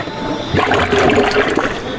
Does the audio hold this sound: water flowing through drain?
yes